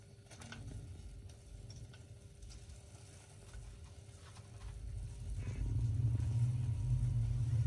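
Chai with tea leaves and a lump of jaggery heating in a pan, giving a steady low bubbling and simmering rumble that swells louder toward the end as it comes to a boil, with no talking.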